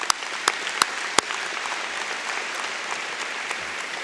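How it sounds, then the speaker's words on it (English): A high school commencement audience applauds steadily, a dense wash of clapping with a few sharp, close claps standing out near the start. "Let's give them a round of applause too, please."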